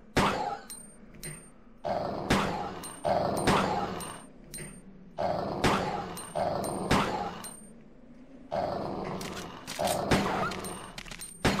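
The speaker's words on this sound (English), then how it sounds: "as soon as you hear that whine, you know that they're dead." Zombie dogs in Resident Evil 2 on the PS1 yelp and whine in repeated loud bursts amid rapid gunfire-like cracks, a busy, close game battle running throughout without speech.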